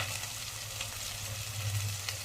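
Spices and ginger-garlic paste fry in oil for a mutton curry with brinjal and raw mango, making a steady, moderately quiet sizzle throughout. No one speaks.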